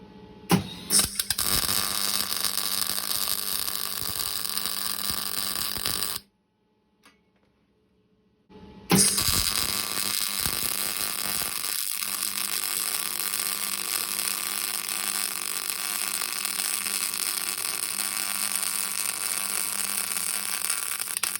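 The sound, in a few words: MIG welder welding a bead with wire feed running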